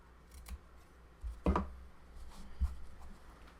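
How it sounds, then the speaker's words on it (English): Scissors lightly snipping the corners off a paper luggage tag, giving two or three quiet, close, crisp cuts over a soft background hiss. "now I find it easiest to just lightly snip off these corners before I do the top edge"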